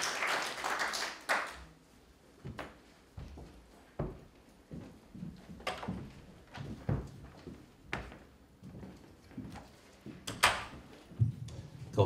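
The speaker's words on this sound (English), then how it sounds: "Let's give the Lord a clap of faith." A church congregation claps during a Sunday service at the Potters House: faint, scattered, uneven claps that come and go in loose bursts over about twelve seconds.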